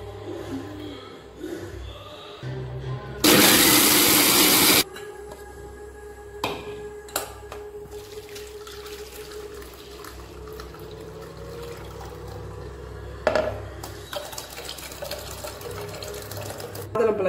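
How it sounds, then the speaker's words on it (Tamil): A kitchen mixer grinder whirs loudly in one short burst while blending pomegranate for juice, with lighter kitchen clatter and a voice speaking before and after. "இதை வந்து நம்ம மிக்சியில் வச்சு நம்ம அரைச்சி வடிகட்டி எடுத்துக்கோம்."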